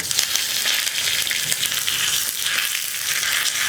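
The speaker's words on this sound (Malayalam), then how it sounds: "നമുക്ക് ഈ വെളിച്ചെണ്ണയിലേക്ക് കടുക് ചേർത്ത് കൊടുക്കാം. ഒരു 1/2 ടീസ്പൂൺ കടുക് മതി. കടുകൊന്ന് പൊട്ടി വരട്ടെ." Mustard seeds splutter and crackle in hot coconut oil while tempering for a green gram thoran, a dense, close sizzle with scattered pops running throughout, with no talking.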